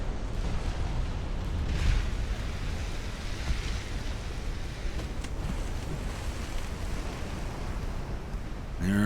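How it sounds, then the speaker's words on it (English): Heavy explosions from torpedo hits on a warship in the naval game Ultimate Admiral: Dreadnoughts, a continuous deep roiling rumble with a few sharper bursts rising out of it, loud and sustained without any voices. "And D11 just ate a torpedo broadside."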